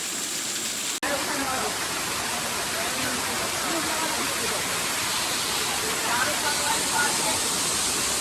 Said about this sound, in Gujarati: અને જો અત્યારે ધોધ છે ને આવો ગાઈસ દેખાય છે.